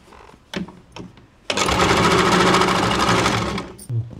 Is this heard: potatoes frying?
no